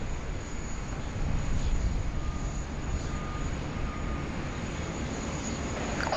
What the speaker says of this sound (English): the first of 2 Qantas 737 departures off to Melbourne